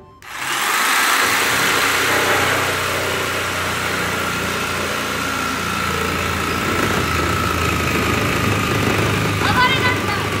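Electric jigsaw making a trial cut, a steady sustained buzzing motor whine that runs loud and unbroken almost the whole time, with a faint voice briefly underneath near the end.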